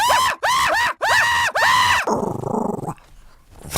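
Dogs indoors bark and yowl at another dog outside, giving four loud, close, high-pitched howling barks in quick succession that trail off into a lower, rumbling growl.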